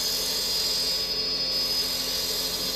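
A bench grinder runs with a steady high whine while a woodturning spindle gouge is sharpened in a handmade wooden jig, flute fully open, the tone constant and loud throughout with no speech.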